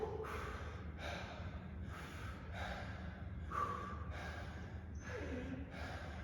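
Two people pant heavily during a rest break in a home kettlebell and dumbbell workout after single-arm swings and squat jacks, with about eight rhythmic, audible breaths in and out, close up and steady.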